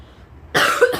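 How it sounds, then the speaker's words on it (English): A real cough bursts out loud and close after half a second of near silence, with a second rough cough following, during a woman's skincare routine. "I'm not even going to edit out my coughing this time because it's real"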